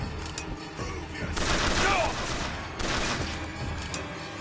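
Bursts of rapid gunfire from combat against enemies in Bioshock Infinite, two loud volleys of overlapping shots with short gaps, a few isolated shots before, and a brief rising whistle between them.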